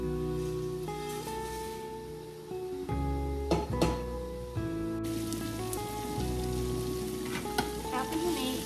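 Meat sizzles and crackles steadily in a hot skillet, with occasional stirring clatter over soft background music.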